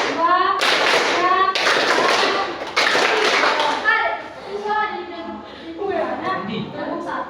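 Children clap along in a counting chant in a classroom, sharp bursts of group hand clapping alternating with a teacher and children chanting numbers aloud.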